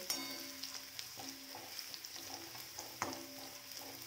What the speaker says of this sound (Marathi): तर लसूण लालसर चांगला असा भाजून घ्यायचा